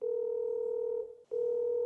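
A phone call's ringback tone sounds as a steady electronic tone that runs for about a second, cuts out briefly, then resumes. It is clear and close, with no voices.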